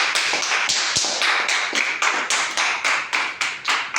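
An audience at a DXN training session claps in welcome for the arriving speaker, a loose, fairly close run of hand claps that settles into a rhythmic beat before fading.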